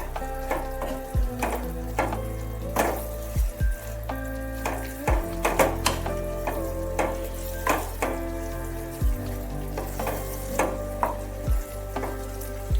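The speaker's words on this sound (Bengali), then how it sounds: "দিয়ে একটু ভালোভাবে নাড়িয়ে চাড়িয়ে নিতে হবে" Pointed gourd curry with milk is stirred in a pan, giving soft scraping strokes and knocks of a spoon against the metal over a low steady sizzle, with a few sharper clinks scattered irregularly throughout.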